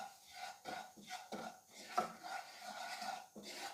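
Spice powders (haldi, coriander, chilli) mixed into oil in a pan, heard as soft, rhythmic rasping scrapes of a spoon against the pan, quiet and close.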